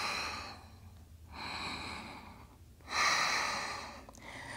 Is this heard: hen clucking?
no